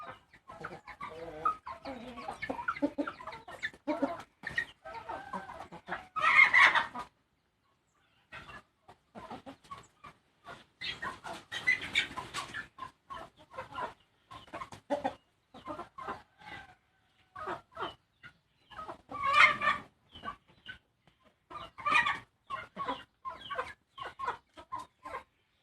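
Hens and roosters cluck and call intermittently across a long stretch, with occasional louder squawks and a possible crow, fairly quiet overall with no talking.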